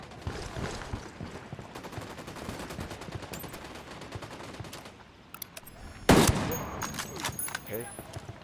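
Unsuppressed automatic gunfire in the Ghost Recon Wildlands video game: dense rapid bursts run almost without pause, a louder, heavier volley breaks out late, and a voice talks faintly underneath.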